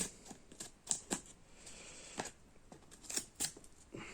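Scissors snip and cut through a parcel's packaging: a series of sharp, close clicks and snips in uneven rhythm, quiet and alone.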